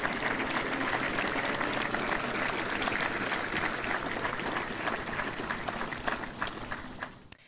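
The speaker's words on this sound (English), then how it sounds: "Let's give them another round of applause." A large audience at an outdoor Marine Corps ceremony applauds steadily, a dense wash of clapping that carries on for several seconds before tapering off.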